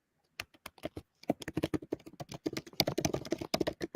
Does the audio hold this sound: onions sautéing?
no